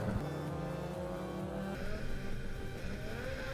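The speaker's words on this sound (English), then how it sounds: "So I tried to do a burnout, but the only thing that I managed to do was kill the engine." A motorhome with a Big Block Chevy 454 engine rumbles and revs low and heavy up close during a drag race burnout attempt, the steady loud engine note shifting partway through without any talking.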